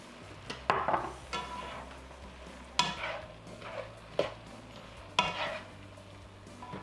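Vegetables cooking in a pan with teriyaki balsamic sauce: a quiet low sizzle under a few separate spatula scrapes and stirs spaced a second or two apart, close by.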